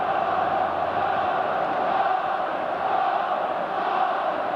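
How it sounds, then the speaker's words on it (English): Football crowd at Ibrox stadium during a 1996 Scotland v Sweden match, a steady distant roar of many voices holding at an even level throughout with no clear peaks or chants. "terrific support from the crowd here at Ibrox"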